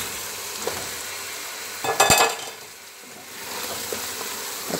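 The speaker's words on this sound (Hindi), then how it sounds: "चिकन डाल के थोड़ा सा फ्राई करेंगे कि चिकन वाइट कलर का हो जाए" Chicken pieces with ginger-garlic paste fry in a pan for biryani, giving a steady sizzle with a louder scraping burst of stirring partway through.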